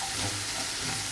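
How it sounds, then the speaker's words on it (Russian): Vegetables with bell pepper sizzle in a pan over medium heat, a close, steady crackling hiss with a soft stirring scrape. "Все жарится на среднем огне."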